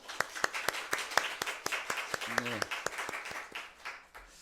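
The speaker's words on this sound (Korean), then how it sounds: "좋은 날 주신 우리 하나님을 박수로 한번 찬양하겠습니다" A church congregation claps in praise during a Sunday worship service, with sharp, evenly spaced rhythmic claps in unison and a voice briefly heard partway through.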